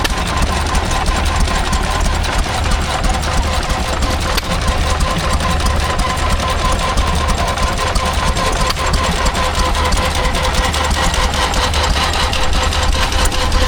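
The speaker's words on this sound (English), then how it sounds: "This is a Lister L-type, grinding a Bamford's mill." A Lister L-type stationary engine drives a Bamford's mill at a rural show, a loud, steady mechanical grinding and chugging that runs unbroken throughout with no speech.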